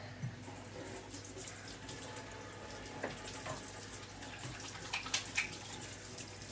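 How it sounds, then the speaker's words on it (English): A tap runs quietly while hands are washed under it in a home kitchen. The water gives a soft, steady wash with a few splashes and clinks near the end, and no one speaks. "we're just going to obviously wash our hands"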